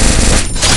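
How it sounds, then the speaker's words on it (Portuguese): A loud burst of rapid video game gunfire rattles at close range, a short automatic volley with no voices, from a mobile shooter played on an iPhone 8 Plus. "Um tiro."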